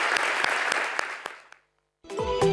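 A studio audience claps briefly for a slam poetry world champion on a television show, the applause fading out into silence before a short musical jingle begins.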